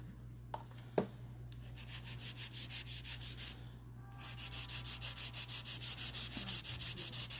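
An air-powered nail e-file, with no ball bearing inside, files and tapers a builder gel nail. It makes quiet, rhythmic scraping strokes that pulse steadily after a couple of sharp clicks and a brief pause.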